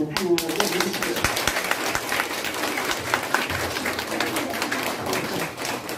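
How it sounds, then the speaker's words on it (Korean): A church congregation claps in welcome during an anniversary and dedication service, producing loud, busy, continuous applause that fills the hall throughout. "우리 모두 박수로 환영하고 모시겠습니다."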